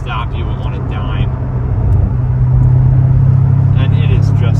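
A 2006 Chevrolet Corvette Z06 pulls hard from 45 to 75 mph in fourth gear, its engine a loud, steady low rumble that swells toward the end, with someone talking over it throughout.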